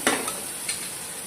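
Spice masala frying in a pan while making banana-flower chops, heard as a soft continuous sizzle with two or three brief stirring scrapes near the start.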